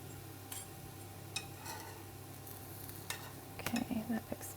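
A pesto pumpkin pancake frying in a pan gives a soft, quiet sizzle, with a few light clicks and scrapes of a utensil toward the end and no one talking.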